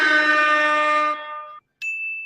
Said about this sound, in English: I got to give you the bell for that one